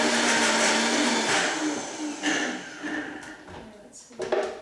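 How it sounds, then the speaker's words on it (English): A kitchen blender pulses cashews into cream for a raw Christmas pudding, with a loud steady whirring motor that drops and restarts in short bursts toward the end, and a voice talking over it. "Use any blender at all, but just pulse."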